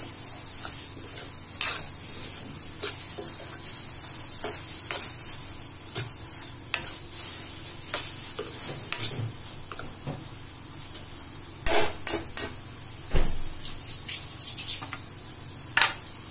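Steady sizzling of green capsicum frying in a hot pan with intermittent scraping and stirring clatter, continuing throughout with no voices.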